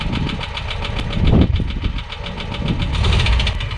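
Camper van engine running after standing unused for a long time, a close, rough idle with a knocking, uneven rumble and rhythmic ticking, loudness swelling briefly near the middle.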